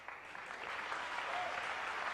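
An audience at a world pool final between Steve Davis and Efren Reyes applauds in a steady, sustained round of clapping, moderately loud and filling the hall.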